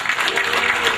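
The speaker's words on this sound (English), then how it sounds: "let's give him a hand clap of praise" A church congregation claps hands in praise at a full gospel service, a dense, steady wash of many hands close and loud throughout the short burst, with voices mixed in.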